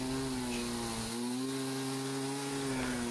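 A Poulan chainsaw runs steadily at high revs for a few seconds, cutting a log, a loud droning whine with slight shifts in pitch as it bites into wood.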